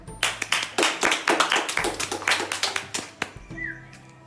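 A classroom group claps in a quick, uneven burst of applause lasting a few seconds, close and lively, fading at the end.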